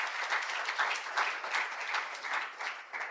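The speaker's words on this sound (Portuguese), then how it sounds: "Vamos dar uma salva de palmas ao Senhor na palavra de Deus" A church congregation at a worship service claps in steady, dense applause, many hands together at an even level throughout with no pauses.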